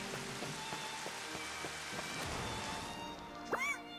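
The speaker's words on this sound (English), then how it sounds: "I can barely even see the rain coming down unless I look up." Rain pours down in the Final Fantasy XV Platinum Demo video game as an even, continuous wash of patter, with a short chime-like game tone near the end.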